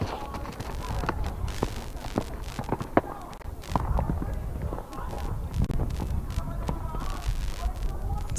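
A mare's hooves thud and clatter on the ground in an irregular rhythm with sharp, gunshot-like cracks at takeoff over show jumping fences, a galloping horse close by.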